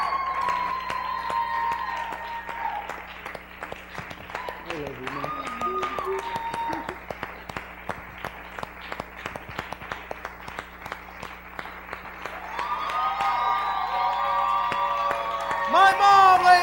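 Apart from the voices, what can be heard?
audience applause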